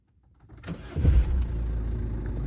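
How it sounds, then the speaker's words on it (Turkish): A Peugeot 301 car engine cranks and catches, then settles into a steady low idle rumble, close and loud, with no talking. "Evet şu anda aracımıza bir marş yapacağız."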